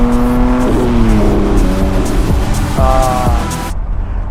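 A car accelerates hard up close, its loud engine note climbing and dropping through several gear changes with an underlying road and wind roar, then cutting off abruptly near the end.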